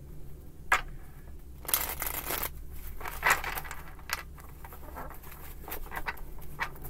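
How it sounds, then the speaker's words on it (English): A deck of cards being shuffled by hand, quiet riffling bursts with soft taps and rustles scattered over several seconds, with no talk. "That was a horrible shuffle."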